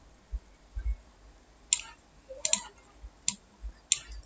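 Computer mouse clicking in pairs of sharp, close, dry clicks, spaced about a second apart over a quiet background, with a few softer thumps between them.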